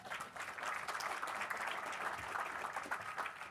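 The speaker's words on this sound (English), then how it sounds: "Clap, clap, clap." Applause from a conference audience, steady dense clapping at moderate volume that holds for a few seconds after an introduction of the opening speaker.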